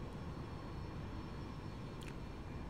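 An airliner in the X-Plane 11 flight simulator gives off a steady low engine drone and broadband rumble, continuous and fairly faint, with no talk.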